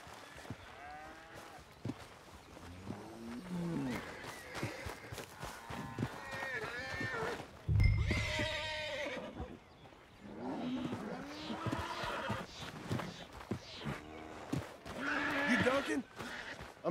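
A horse in the video game Red Dead Redemption 2 clip-clops with hooves, and a loud neigh bursts out midway, while characters talk over the ambient outdoor scene.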